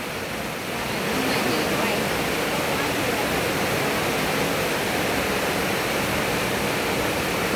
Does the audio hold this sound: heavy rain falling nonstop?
yes